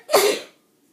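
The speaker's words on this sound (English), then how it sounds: "Wait, I sneeze." A single sharp, explosive sneeze bursts out loudly and quickly trails off into silence.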